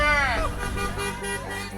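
A car horn toots briefly at the start, passing a Starbucks workers' strike picket, followed by voices and street noise in the background.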